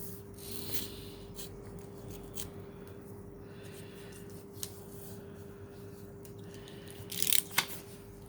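Faint scissors snip and rasp through paper at close range in a quiet room, with scattered soft cuts and a short flurry of sharper snips near the end over a low steady hum.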